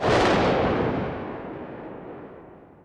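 Gunshot tail layer from a modern firearms sound library, a loud booming report that opens at once and decays in a long, smooth rumbling fade over about three seconds, with no voices.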